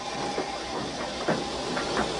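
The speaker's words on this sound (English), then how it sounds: "He just let off steam feebly." A toy model steam engine lets off steam feebly: a soft, continuous hiss with faint rhythmic puffs and light clicks, fairly quiet and steady for a couple of seconds, with no voices.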